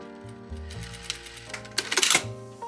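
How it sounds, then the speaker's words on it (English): A sewing machine stitches a trouser waistband seam in bursts of rapid mechanical chatter, building to a denser, louder run near the end, close and without talk. "Now we're going to sew them together and press the seam allowance towards the top edge of the waistband."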